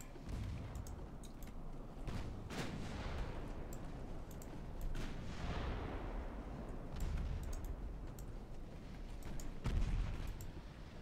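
Warship guns fire in Ultimate Admiral Dreadnoughts as a steady rumble of overlapping booms and blasts, with heavier salvos standing out near the middle and end.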